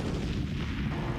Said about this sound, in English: we're sending a 155 howitzer round downrange about 14 miles